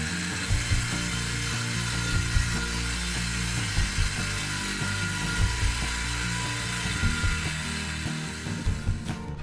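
A power saw run on a DIY track saw rig cuts its blade channel, giving a continuous, loud, droning whine with faint intermittent clicks throughout, no talking.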